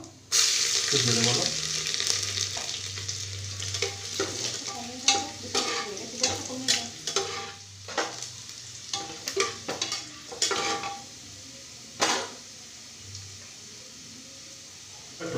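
Cinnamon, cloves and chopped garlic hit hot oil with a loud crackling sizzle that gradually settles, broken by irregular stirring scrapes and clanks, with a faint voice in the background.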